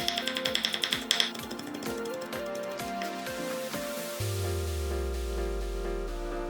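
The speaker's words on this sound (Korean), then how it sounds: "초장에 들어갈 통마늘 3개 다져서 담고" A knife minces three whole garlic cloves with a quick burst of close, sharp tapping at the start, then gives way to a lower, steadier background sound.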